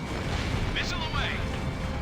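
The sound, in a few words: tank destroyed explosion in flight video game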